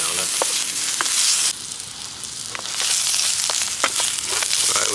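Foraged mushrooms seasoned with garlic salt fry in a pan with a loud, steady sizzle, punctuated by scattered crackles and stirring scrapes, and the hiss drops briefly before swelling again.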